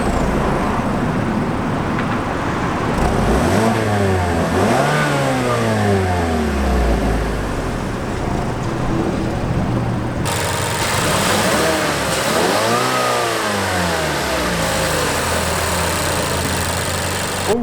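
The 2.5-liter naturally aspirated Skyactiv four-cylinder in a 2016 Mazda CX-5 idles loudly up close and is revved several times, each blip rising and falling in pitch before settling back to a steady idle.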